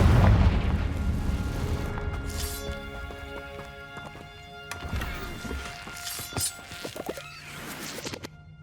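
A Confringo spell bursts in Hogwarts Legacy, a loud booming blast up front that rumbles away, followed by scattered thuds and smaller impacts over game music.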